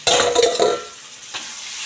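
Ridge gourd stir-frying in a pan, a loud hiss with stirring scrapes at the start that drops to a steady, softer sizzle, then a brief clatter before the frying settles again.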